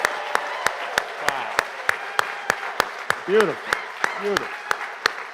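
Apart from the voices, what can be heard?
congregation applause for young people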